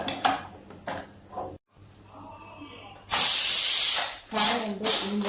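Pressure cooker whistle being released in a home kitchen while cooking yam for erissery, with talk over the first half, then a loud sustained steam hiss that swells, cuts briefly and returns in bursts.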